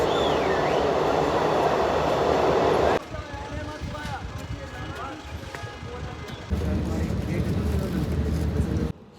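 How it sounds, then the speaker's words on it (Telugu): A passenger train runs on the line from Srinagar to Banihal, a steady, close rumble of wheels and carriage noise that shifts in loudness, with people talking over it. "ఇప్పుడే ట్రైన్ అయితే మూవ్ అయిపోయింది"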